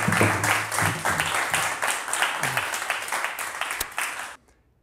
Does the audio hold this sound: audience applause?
yes